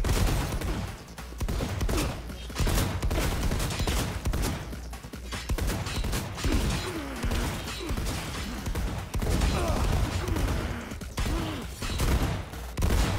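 Gunfire rattles through a Cyberpunk 2077 firefight, with dense, continuous bursts of shots and impacts filling the whole stretch and no pauses, loud and close.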